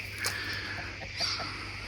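Backyard chickens cluck faintly in short, scattered calls over a steady outdoor background hum, fairly distant and without talking.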